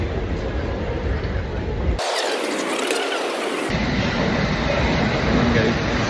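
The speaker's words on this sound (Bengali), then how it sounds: "ট্রেন চলে আসবে চলে আসছে" A train rumbles loudly nearby with a steady roar as it arrives at a station, and the sound abruptly changes in tone partway through as it passes, with voices of waiting passengers faint underneath.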